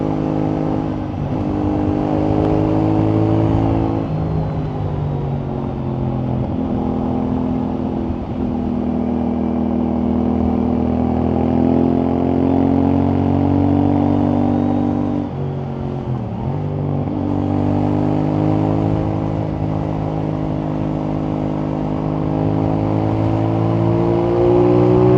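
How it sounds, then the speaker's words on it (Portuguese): A CFMOTO 450NK motorcycle engine drones steadily while riding through curves, its pitch rising and dipping with the throttle, loud and close throughout with no talk. "Muito prazerosa esta moto."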